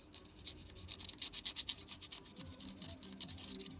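Small brush wetted with isopropyl alcohol scrubbing the resistive plates of a potentiometer, a quiet run of rapid scratchy strokes close up with no one talking.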